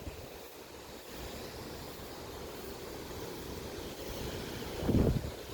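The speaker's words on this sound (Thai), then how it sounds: "ลมแห้งคักแห้งแน่" Steady outdoor wind roars and buffets the microphone throughout, with a louder gust rumbling near the end.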